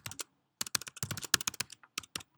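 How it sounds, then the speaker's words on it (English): Typing on a computer keyboard gives bursts of quick, crisp key clicks in an irregular rhythm with short pauses. The sound is close and fairly quiet, with no talk. "I'm going to try typing in the correct password."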